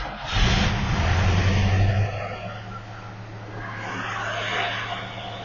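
A 1971 Mercury Comet GT engine idles high nearby, a steady low rumble that swells briefly near the start then settles into an even drone, with no talking.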